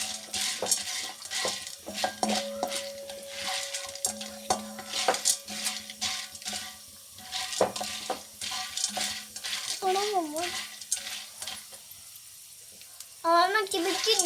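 Popcorn kernels are stirred with oil in a metal pan for caramel popcorn, a steady scraping and rattling of kernels against the pan with faint sizzling, repeated over and over while a voice speaks.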